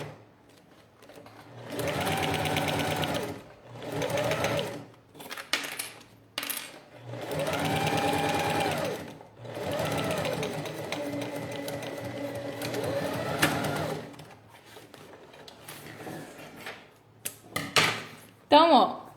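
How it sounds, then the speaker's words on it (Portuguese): A sewing machine fitted with a presser foot stitches clear crystal plastic fabric in several loud bursts of rapid whirring, separated by pauses, with a person talking in between. "vou costurar aqui com um pé de máquina"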